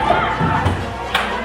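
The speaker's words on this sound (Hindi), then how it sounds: "मंदिर के बाहर दर्जनों लोगों की भीड़ है।" A crowd of dozens of people gathers outside a temple during stone-throwing unrest, a loud mass of shouting and cheering voices with a thud or two, heard close and continuous.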